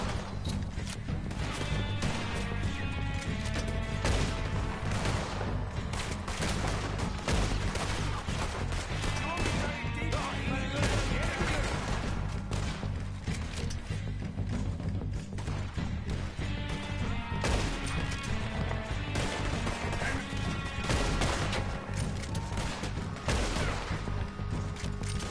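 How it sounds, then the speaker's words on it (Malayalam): Sustained gunfight in Red Dead Redemption 2, with dense, continuous gunshots and crashing impacts layered over a loud, busy game soundtrack for nearly half a minute. "Nice gun fight."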